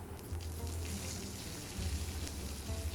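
Shallots frying in oil tempered with halved dried red chilies and chopped curry leaves, a soft continuous sizzle with a low bubbling undertone, fairly quiet and steady with no voices.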